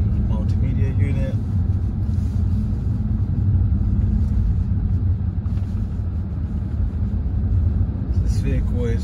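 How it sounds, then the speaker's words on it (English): A BMW 640d Gran Coupe, a 308 hp diesel, drives along the road with a steady low rumble of engine and road noise that stays loud and constant throughout. "Vehicle drives very well, very nice, smooth drive."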